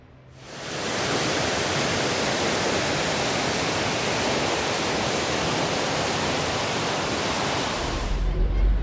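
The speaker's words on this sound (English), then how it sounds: "So the Yellow River runs through Lanzhou." The Yellow River flowing through the city of Lanzhou, a steady broadband rushing wash of water that fades in and holds at an even, loud level throughout.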